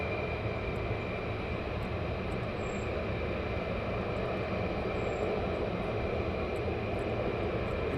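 A military aircraft lands on runway 28 at Mildenhall, its engine a steady, broad roar that holds at constant loudness throughout, with no voices.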